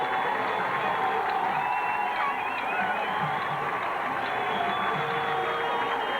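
A high school football stadium crowd in 1997 roars on its feet late in the fourth quarter, a dense, continuous wall of cheering and shouting with whistles and whoops above it.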